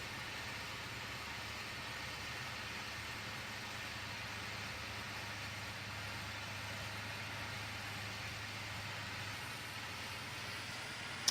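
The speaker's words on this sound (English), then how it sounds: "See, it gets really high pitched, and it sounds a bit modern for the age of the tractor" A Ford 6640 tractor engine in Farming Simulator 2015 runs at a steady, high-pitched drone with a constant hum beneath, continuous and alone for about eleven seconds.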